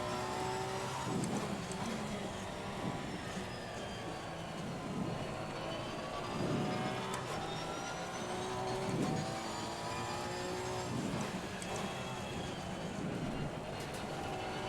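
Race car engines roar continuously in a racing game on the Monza circuit, several cars revving and shifting close together as they jostle in traffic, a steady dense engine drone throughout.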